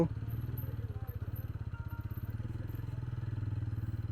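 A motorcycle idles and rolls slowly toward the entrance of Lohoria Shiv temple in Purulia, its engine a steady, close, low pulsing throb that continues unbroken with no clear voices.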